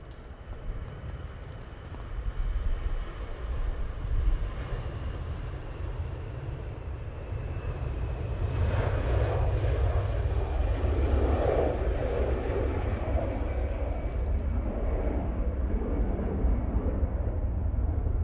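An orange-liveried airliner bound for Prague roars down the runway at Manchester Airport on its takeoff roll, a steady broadband engine rumble that swells louder around midway and holds strong to the end, with no voices.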